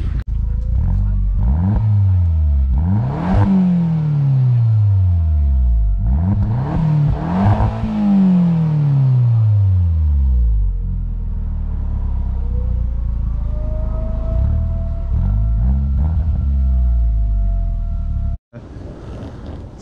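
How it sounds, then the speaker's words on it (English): A warmed-up car engine revs up and falls back repeatedly, several rising and sinking sweeps of engine note over a steady idle, close and loud, with no talking. "waiting for it to get up to temp so I can give you some revs."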